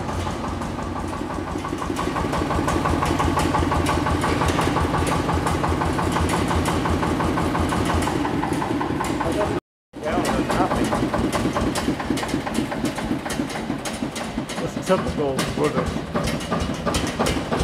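An old engine with a heavy flywheel runs steadily at a vintage museum in Maungatapere, its loud, continuous mechanical chugging filling the clip with a brief cutout midway and voices talking over it.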